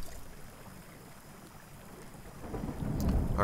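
Thunderstorm with rain in the survival game Smalland: a steady wash of rainfall that swells into a low, rumbling roll of thunder near the end, with no talk over it.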